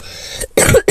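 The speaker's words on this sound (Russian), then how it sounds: "У меня кашель, ребят, жесткий, капец." A single harsh cough, then a second short cough burst, close and loud, from a person with a bad cough.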